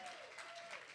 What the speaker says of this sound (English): Round of applause for my amazing student, Jamila.